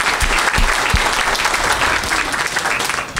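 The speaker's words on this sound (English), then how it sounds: "So if you could give them a round of applause right now." An audience at the NWPAS 2010 event gives the organizers a round of applause: loud, dense, steady clapping from a full crowd that carries on unbroken for several seconds.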